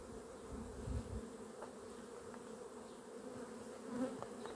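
Honeybees hum continuously inside a hive colony, a steady, close, low drone with a few brief louder passes and no voices.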